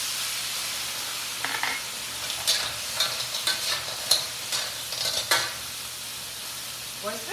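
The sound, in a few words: clams stir-frying with black bean and rice wine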